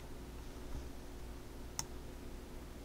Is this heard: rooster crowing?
no